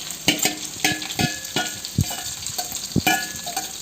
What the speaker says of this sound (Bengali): সমস্ত ভাজা এবার কড়াইতে মিশিয়ে দেওয়া হলো।